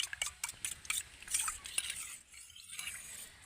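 A spoon stirs cornflour into milk in a small container, producing quiet, rapid clinking and scraping taps in irregular bursts, close and faint.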